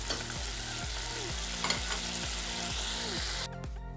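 Masala Maggi noodles cook and get stirred in a pan, with a steady sizzle under regular scraping strokes of a spoon, about one every half second, close and even, with no talking.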